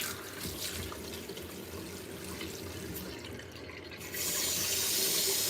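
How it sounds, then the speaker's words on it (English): Cold tap water runs into a sink or bowl for soaking cut plantain, a steady hiss and splash that grows louder and brighter as the flow increases near the end. "So you have to put it in water, cold water."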